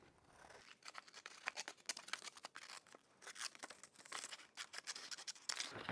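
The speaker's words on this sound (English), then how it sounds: "So basically, I'm going to rough cut this." Scissors rough-cut a paper template for a windshield vent grill on an Indian Roadmaster Chieftain motorcycle, giving quiet, close, crisp snips and crinkling in irregular bursts with brief pauses.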